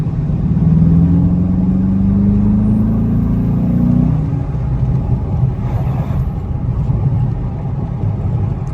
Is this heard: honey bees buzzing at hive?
no